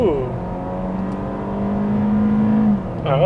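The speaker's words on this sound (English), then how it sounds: "Let's put the car into sports and give it some gas." A 2020 Hyundai Sonata midsize sedan with a 2-liter gasoline engine accelerates in sport mode, its engine note droning and rising steadily, close and loud, with a shift near the end.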